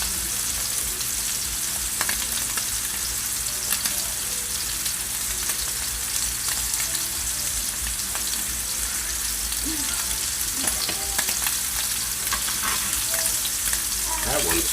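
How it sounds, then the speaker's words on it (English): Scallops sear in a hot pan, giving a dense, continuous crackling sizzle that holds steady and close throughout, with occasional light clinks and faint, sparse talk underneath. "So you really just want to sear them on both sides."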